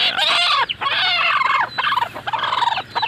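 A brooding hen sitting on eggs lets out loud, close drawn-out clucks and throaty churring calls in several long bursts with short gaps between them.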